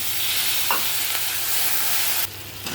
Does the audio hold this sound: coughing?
no